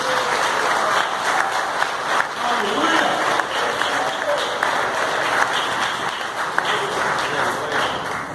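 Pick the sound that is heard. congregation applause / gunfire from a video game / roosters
congregation applause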